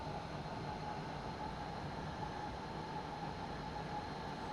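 Train braking into Reichenschwand station on the Pegnitztalbahn in a train simulator, a quiet steady rumble and hiss of rolling wheels and brakes, even and unchanging throughout with no voices.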